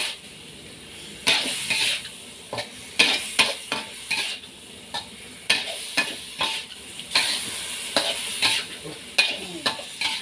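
Sliced pork belly and ginger stir-frying in a hot pan: bursts of sizzle with repeated scraping and clinking of a utensil against the pan, coming in uneven strokes, close and fairly loud, no voices.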